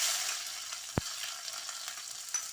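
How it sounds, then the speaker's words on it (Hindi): Onion tempering for kadhi frying in hot oil, a soft steady sizzle throughout with one sharp pop partway through, close and fairly quiet. "ये मैंने प्याज का तड़का लगाना है"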